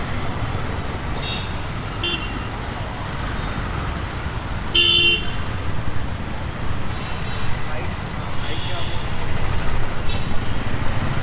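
Busy Mumbai street traffic with rickshaws, a steady roadway rumble broken by a few short car horn toots, some nearby and some distant, with voices faintly under the noise.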